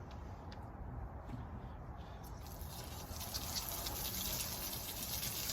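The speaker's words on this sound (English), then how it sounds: "I'm going to water in again" Water sprinkled over a garden walkway bed inoculated with wine cap mushroom spawn in winter, a soft, quiet patter and trickle that builds slightly partway through and continues as a steady spray.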